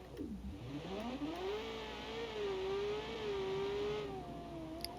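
A naturally aspirated V8 of well over 1,000 horsepower, driven in the car-building game Automation, revs up from low and then holds a smooth, steady drone, moderately loud and fairly close, with no voices.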